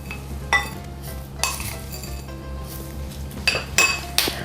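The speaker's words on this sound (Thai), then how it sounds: "แล้วก็คนส่วนผสมให้เข้ากันเลยค่ะ" A spoon clinks and scrapes around a bowl while mixing ground roasted peanuts, syrup and toasted dried shrimp, giving irregular sharp taps and knocks between softer stirring sounds, close by with no talk.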